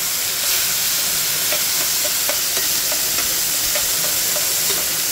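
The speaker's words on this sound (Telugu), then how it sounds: "చూసారు కదండి, పోపు వేస్తుంది." Hot oil sizzles steadily as a tempering with tomato and curry leaves goes in, a bright hiss with faint scattered pops and crackles, close up, with no talking.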